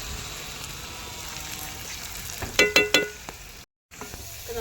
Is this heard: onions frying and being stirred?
yes